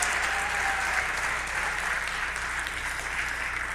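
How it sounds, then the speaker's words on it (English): A school fall sports awards audience applauds a weight room coach with a steady, full round of clapping that tapers slightly toward the end. "we can give him a round of applause."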